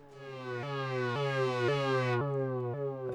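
Logic ES2 synth tone modulated by a square-wave LFO, a bright buzzy sustained sound that jumps in a steady, evenly spaced pulse, about six steps, with treble cutting off near the end; no voices.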